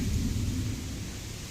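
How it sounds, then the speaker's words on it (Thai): Steady rain pours down with a deep, continuous rumble of thunder underneath. The downpour stays even throughout and no one speaks. "ฝนตก"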